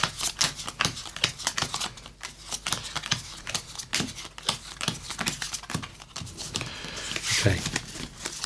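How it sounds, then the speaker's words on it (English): A deck of Marvel comic game cards is shuffled by hand in an awkward style, heard as a close, rapid series of papery riffles and flicks that continues without a break. "I'm just going to give these the best shuffle I know how, which is this horrendous way."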